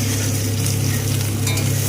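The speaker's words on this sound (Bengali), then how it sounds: "এবার এটাকে ভালো করে একসাথে কষাবো।" Cabbage with green chillies and tomatoes sizzles loudly in a hot pan while being stir-fried, a dense continuous crackle with faint scraping of the spoon, close and alone.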